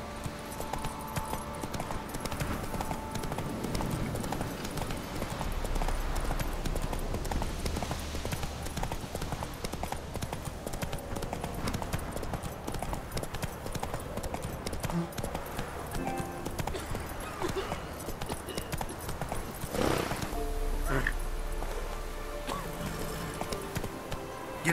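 A horse gallops in The Witcher 3 video game with steady, rhythmic hoofbeats throughout, set against ambient game sound, with a voice speaking briefly.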